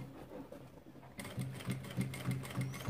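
A sewing machine stitches fabric at an easy, unhurried pace while making a cover for the machine itself, its needle thumping in a steady rhythm that starts after a quiet moment and carries on alone, close and clear.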